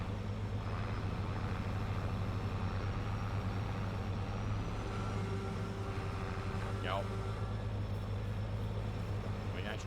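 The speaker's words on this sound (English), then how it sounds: "Let's shut that tractor off." Farming Simulator 22 tractor engine running steadily with a deep, constant low rumble throughout, a brief higher whine partway through and faint background noise layered over it.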